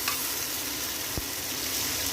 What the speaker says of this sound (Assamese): এতিয়া কম জুইত পিঁয়াজখিনি একদম ৰঙা হোৱালৈকে ভাজিব লাগিব ভালদৰে